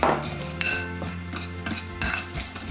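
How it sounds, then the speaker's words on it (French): Sugar and five-spice marinade stirred with a metal spoon in a bowl for braised lacquered pork, a steady run of close scraping and clinking with a few sharper chinks. "Donc, on mélange"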